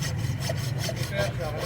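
A hand saw cuts through a pipe during a plumbing job to find a blockage, giving a faint, steady rasping of rapid back-and-forth strokes that carries on without a break.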